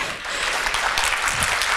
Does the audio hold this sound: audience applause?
yes